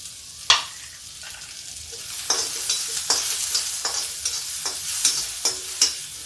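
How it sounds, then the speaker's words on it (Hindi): Garlic, onion and green chili sizzle and fry in a pan, with a steady hiss under repeated scraping stirs at a loose rhythm, close and clear. "इसको भून लेते हैं।"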